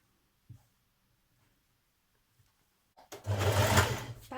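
A sewing machine starts a back tack on a shoulder seam of a shirred dress, a loud close whirring burst after a few faint soft taps and near silence.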